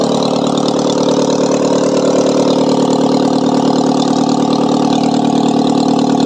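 A Honda Civic engine under full restoration, still giving off smoke, runs steadily at close range, a loud, even mechanical drone with no pauses throughout.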